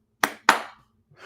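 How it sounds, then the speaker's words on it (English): Two sharp hand claps close by, evenly spaced about a quarter second apart, followed by a faint sound starting just after. "I'm going to clap my hands twice"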